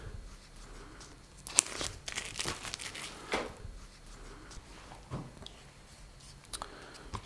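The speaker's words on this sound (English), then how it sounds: "I'm going to take the plastic off here. The plastic on the back." Protective plastic film is peeled off the back of a rugged Surface Go case, giving soft, close crinkling and tearing sounds in scattered bursts with a few sharper crackles.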